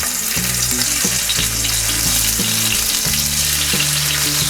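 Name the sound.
prawns marinated in salt and turmeric frying in oil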